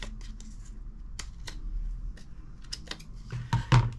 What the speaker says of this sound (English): Just going to stick it and then trim off that excess.